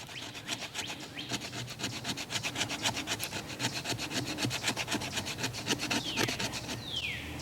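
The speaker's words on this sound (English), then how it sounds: "We're going to use the back of our knife and get some shavings." The back of a knife scrapes shavings from resin-rich pine fatwood in quick, rhythmic rasping strokes, close and steady, with a couple of sharper scratches near the end and no talking.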